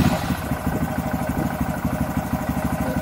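Small manual-transmission motorcycle idling and chugging at low revs in a pulsing, steady rhythm while a rider tries a half-clutch start, the engine close and moderately loud throughout.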